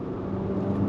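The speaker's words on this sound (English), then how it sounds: "you are getting some usual 4-cylinder turbo noises coming from underneath the hood" A 2025 Infiniti QX60 Black Edition's 4-cylinder turbo engine gives a steady, muffled drone from under the hood, heard from inside the cabin with a constant low rumble and whir throughout.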